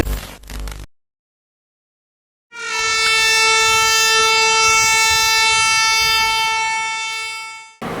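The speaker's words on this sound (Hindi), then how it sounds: "न्यू दिल्ली भुवनेश्वर तेजस राजधानी, क्या हॉन्कर है भाई" The New Delhi–Bhubaneswar Tejas Rajdhani Express sounds a long, loud, sustained multi-tone horn that rings steadily for about five seconds as it approaches, following a short burst of noise and a moment of silence.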